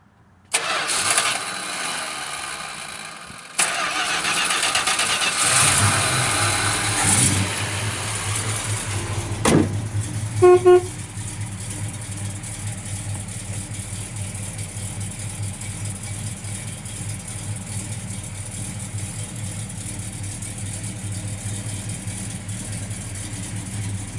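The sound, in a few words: 1966 Plymouth Satellite 383 engine starting and idling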